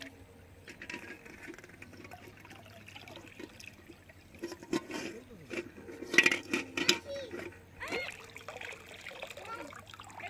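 Eggs being washed in water at an outdoor picnic, with soft trickling and splashing that rises in a few brief bursts against a steady low hum.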